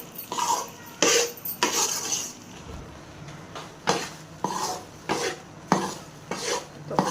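Semolina (suji) being stirred as it dry-roasts in a pan for panjiri, with a spoon scraping and clinking against the metal in repeated strokes, close and moderately soft, no talking.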